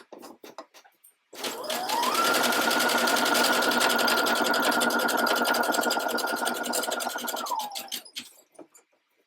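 A sewing machine stitches a second seam on a lace thong, a steady close mechanical whir that ramps up, holds for several seconds and winds down, with a few short bursts of stitching before and after.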